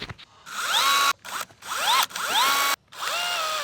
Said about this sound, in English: I'm gonna need a drill